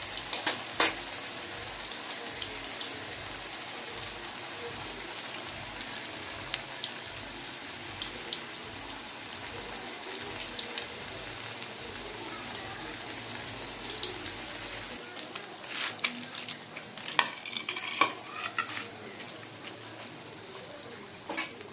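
Banana stem vada deep-fry in oil with a steady, rain-like bubbling crackle at moderate to low volume. The frying carries on throughout, a low hum drops out partway, and no one speaks.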